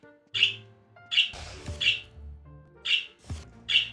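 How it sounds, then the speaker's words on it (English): Cecil, a pet bird, lets out a series of sharp, excited chirps in quick bursts, close and loud, with quiet gaps between calls. "there is a loud chirping bird in the background"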